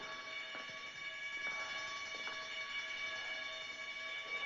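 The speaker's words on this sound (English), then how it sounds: "That alarm is going to bring quite a crowd here" An alarm rings continuously in a steady, shrill multi-tone clang, loud and unbroken throughout, with a few faint knocks beneath it.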